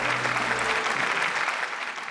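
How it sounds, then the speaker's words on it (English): Audience applause at a business awards event, a dense burst of clapping from a crowd that holds steady for about two seconds, fairly close, with a low hum cutting off early and no talk over it. "Round of applause."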